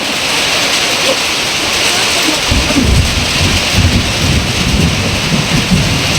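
Heavy rain pours down in a dense, constant roar, with low rumbles rising underneath partway through.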